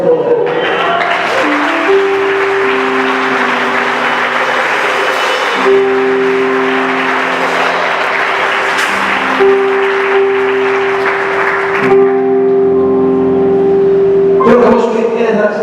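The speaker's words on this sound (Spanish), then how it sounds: "Levante su mano y alabe al Señor y le dé un aplauso de poder." A church congregation claps in praise to the Lord, broad applause rolling on beneath long sustained keyboard or organ chords, with a few raised voices mixed in before it thins out near the end.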